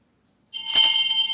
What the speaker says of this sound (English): You may also ring the bell.